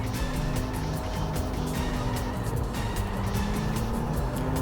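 A purple Mitsubishi Evo 5 race car in Tokyo Xtreme Racer 3 drones with a steady, loud engine note and constant road roar, holding continuously without any talk.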